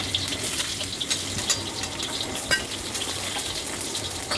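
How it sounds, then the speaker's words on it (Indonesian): Ginger, shallots and garlic sauté in hot vegetable oil, giving a steady, close sizzle and crackle with occasional louder pops and stirring. "Saya tumis dulu ini jahenya, bawang merah, bawang putih."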